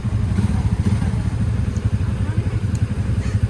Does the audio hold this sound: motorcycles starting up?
yes